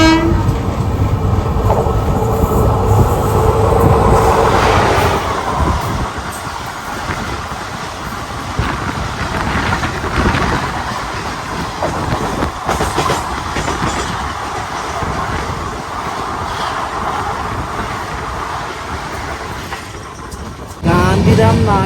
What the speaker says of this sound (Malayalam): ഗാന്ധിധാം നാഗർകോവിൽ എക്സ്പ്രസ് ആണ് ഇപ്പോൾ അങ്ങോട്ട് പോയി.